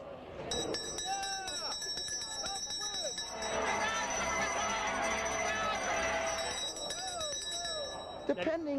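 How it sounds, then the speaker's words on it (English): A hand bell, rung by a bleacher fan at a Chicago baseball game, clangs steadily for about eight seconds with bright ringing overtones, while people talk nearby and a crowd murmurs behind it. "Can you ring it for us now?"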